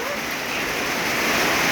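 Steady rain falls outdoors in a continuous, even wash of hiss that fills the whole moment, with no break or pause.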